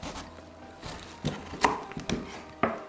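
A knife works through cooked, caramelized sweet potato on a board, giving several soft, uneven thuds and scraping cuts at close range with quiet gaps between strokes.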